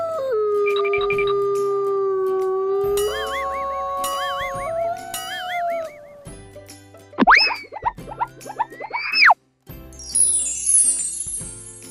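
Wolf howl, a long sustained call that rises and bends in pitch, loud and alone, followed by other cartoonish boing and sliding effects.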